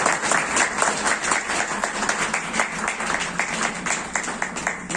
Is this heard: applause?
yes